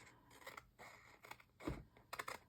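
Scissors trim paper along the edge of a blue postcard pocket, giving a few faint, close snips and paper rustles, very quiet with no talking.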